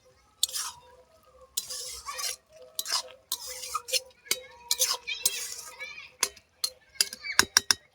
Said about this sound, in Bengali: ওগুলো দিয়ে দিচ্ছি দিয়ে ভালোভাবে মিশিয়ে নিচ্ছি